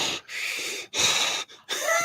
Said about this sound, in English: You notice that his mic is way above his nose, but yet we can still hear him breathing